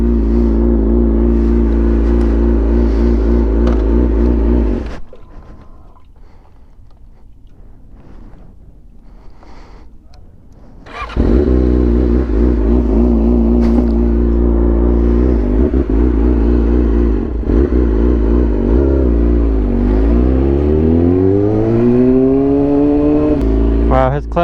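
A Yamaha R6 sport motorcycle fitted with a Translogic quick shifter revs loudly up close, drops to a quieter idle, then roars back and climbs through rising, stepping gear changes.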